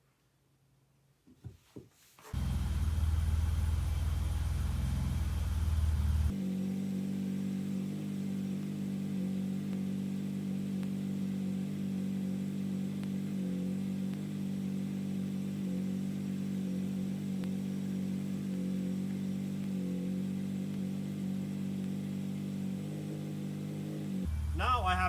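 A 1986 BMW E28 535i engine idling steadily while its air-fuel mixture is adjusted, a low even hum holding for over twenty seconds after a brief catch near the start, faint and unchanging.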